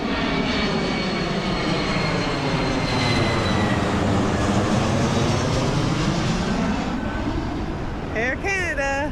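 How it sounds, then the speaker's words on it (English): A jet airliner passes overhead on approach to the airport near a beach in Nassau, Bahamas, a loud sustained roar with a slowly sweeping, swelling whine that holds throughout, then thins at the end. "with all the planes going overhead to the airport"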